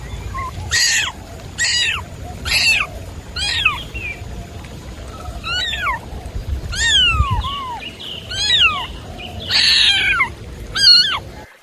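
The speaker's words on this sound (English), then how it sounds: "Cat." A cat meows about a dozen times in close succession. Each meow is loud, near and clearly separated, with rising and falling wavering tones.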